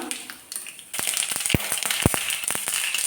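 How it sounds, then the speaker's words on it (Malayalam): Mustard seeds pop and crackle in hot coconut oil on the stove while making wheat upma, scattered sharp snaps growing busier after a quiet start, with a couple of louder thumps close by. "എണ്ണ ചൂടാകുമ്പോൾ കടുകിട്ട് കൊടുക്കാം."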